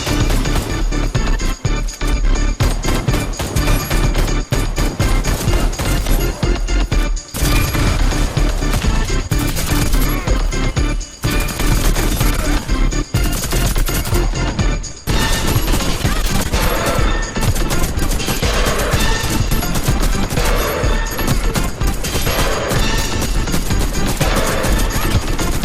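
Sustained automatic gunfire in the Warface first-person shooter on Switch, loud and close, with rapid bursts hammering almost nonstop and only brief pauses between volleys.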